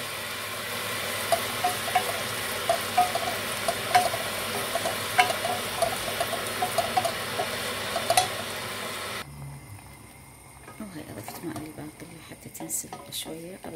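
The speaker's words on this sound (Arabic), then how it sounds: "خليت عليه ثوم مهروس، ثوم قروش ناعم، وهنا خليت الباقلي تنحمص معاه" Crushed garlic and broad beans frying in a pan give a dense, steady sizzle with scattered stirring clicks, which cuts off abruptly and gives way to quieter kitchen sounds and a voice.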